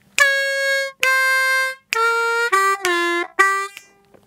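Harmonica plays the second half of an electric blues lick, six sustained reedy notes in a steady rhythm with audible pitch bends dropping in the middle, loud and close with no talking.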